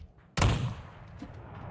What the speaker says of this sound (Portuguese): Tem uma granada aí, ó, pela janela em cima.